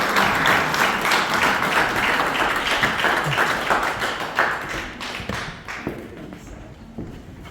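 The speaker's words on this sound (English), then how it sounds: "Can we give everyone who shared another big round of applause?" An audience applauds at a centenary reunion gathering. The clapping is dense and sustained, then gradually thins and fades toward the end.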